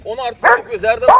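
A four-month-old Anatolian Shepherd puppy yips and barks in short, high bursts, mixed with a person talking close by.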